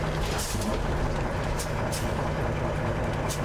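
Steady low rumble and hiss from a Peterbilt truck with air brakes, a continuous broadband wash with a few brief bursts of airy release, no talk.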